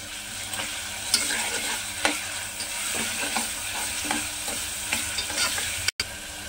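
Onion pieces frying in oil with salt and turmeric for a okra and dried prawn curry, a steady close sizzle with occasional sharp stirring scrapes and clinks of a spoon against the pan.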